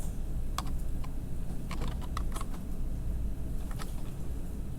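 Typing on a computer keyboard while writing Python code, a steady run of quick clicky keystrokes in short bursts over a low background hum, close and fairly clear.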